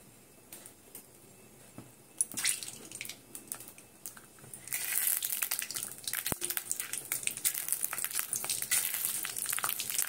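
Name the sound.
peanuts frying in oil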